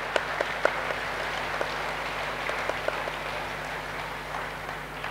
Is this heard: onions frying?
no